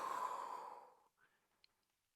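A long audible exhale during a Pilates mat exercise with a ring, a breathy rush of air that fades out over about a second, followed by quiet.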